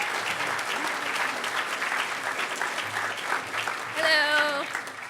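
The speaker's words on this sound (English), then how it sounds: "Give her a huge round of applause." Audience applause at the HOPE Number Nine hacker conference closing ceremony in 2012, a steady wash of many hands clapping that swells near the end, with whistles and cheers rising above it.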